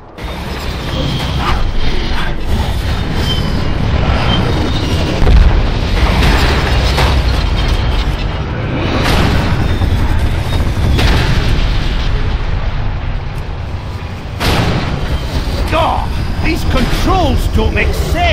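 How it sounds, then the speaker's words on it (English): An orc-built tank rumbles in World of Warcraft: Warlords of Draenor, with heavy low mechanical grinding, repeated booming explosions and clanks throughout, under shouted game voices. "Tank coming over the rise!"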